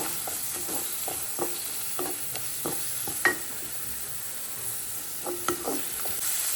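Shallots sauté in a pan for pepper chicken, a light steady sizzle with repeated quick spatula taps and scrapes against the pan, close and moderately quiet.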